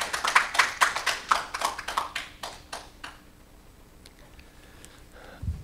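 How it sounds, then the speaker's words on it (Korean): Audience applause at a forum session, welcoming the next speaker: a brief burst of claps fading out over about three seconds, followed by near silence. "박수로 맞아주시기 바랍니다."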